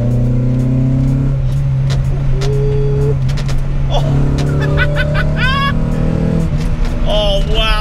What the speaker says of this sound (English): engine that absolutely roars its arse off